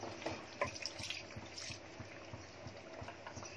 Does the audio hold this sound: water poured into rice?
yes